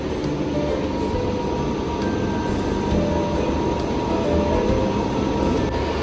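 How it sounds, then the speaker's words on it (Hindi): A Srinagar–Banihal Vistadome train pulls into Anantnag station, a loud, steady rolling rumble heard from inside the carriage, with no voices. "तो अभी ट्रेन आ पहुंची है अनंतनाग में"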